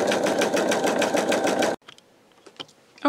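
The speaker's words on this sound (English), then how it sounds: "we have all of our stitching completed" A Pfaff Creative 4.0 embroidery machine stitches fonts in a steady, rapid mechanical whir with a regular pulsing rhythm, running loud and close for almost two seconds before stopping abruptly, leaving only faint handling clicks.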